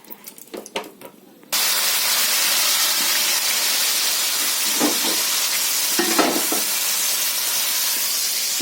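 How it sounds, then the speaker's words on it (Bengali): Pre-boiled potato goes into hot oil in a wok, setting off a loud, sudden burst of sizzling after some brief clatter, then a steady close hiss with a few spitting pops. "আলুটা ভেজে নেব"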